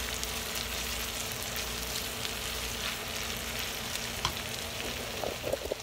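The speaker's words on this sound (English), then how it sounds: "I'm just kind of stirring them up every once in a while." Food frying in butter in a pan, a steady soft sizzle running throughout, with a few scraping stir sounds near the end.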